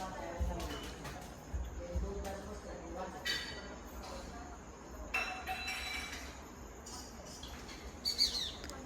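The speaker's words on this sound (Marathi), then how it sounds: "चिमणीची आई घरट्यात आली" Sparrows chirp in short, scattered bursts close by at a nest with chicks in a tree under a porch, with clinking sounds and background murmur underneath.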